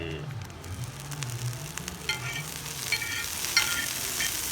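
Butter sizzles and crackles on a hot griddle stone for butter buns, a steady close hiss broken by small pops and scraping stirs, with no talking.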